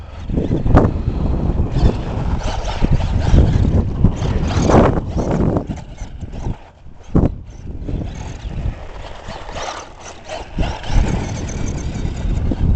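A Tamiya DT-03 Racing Fighter RC buggy with a brushed motor on 3S power runs outdoors, its motor buzz surging and fading with throttle bursts and short pauses amid gusty wind noise.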